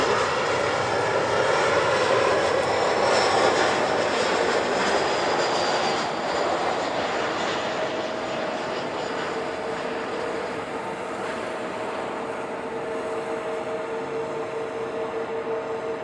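Delta jet airliner on approach into LAX during reverse operations, a loud broad engine roar with whining tones that swells early and then slowly fades as the aircraft passes and recedes, heard alone.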